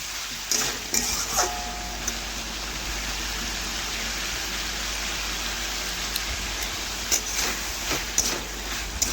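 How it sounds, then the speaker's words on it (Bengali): Mixed vegetables sizzle and frying steadily in a pan for an egg-and-vegetable Bengali dish, a continuous close hiss with scattered louder clicks and scrapes as they are stirred, no talking. "এইভাবে বেশ কিছুক্ষণ নাড়াচাড়া করে আমি একটু রান্না করে নিচ্ছি।"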